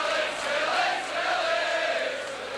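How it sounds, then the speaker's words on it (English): Home supporters cheering and shouting at a 1989 rugby league match between Leeds and Wakefield Trinity, a broad, distant roar of a large crowd that holds steady throughout. "And the Leeds crowd at last having something to shout about."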